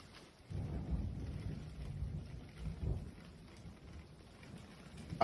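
Thunder rumbles repeatedly during a heavy rainstorm, with low rolling booms swelling and easing over a constant wash of rain, fairly close and loud for several seconds.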